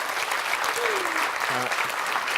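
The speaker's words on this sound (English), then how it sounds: "a round of applause for Anne there" Theatre audience at a countryside show applauds a gardening speaker, a steady dense wash of clapping filling the room, with a voice briefly speaking over it midway.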